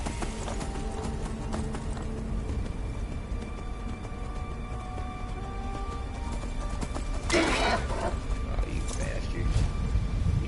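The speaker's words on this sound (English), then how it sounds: "Still a Daedric horse." Hooves of a Daedric horse in Skyrim clip-clop steadily throughout, a rhythmic trot layered with game ambience and a brief swell of louder noise near the end, with talk passing over it.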